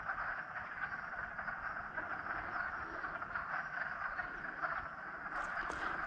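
Frogs croak in chorus at a small woodland frog pond, a continuous dense trilling carried at moderate distance, steady throughout with a little rustling near the end.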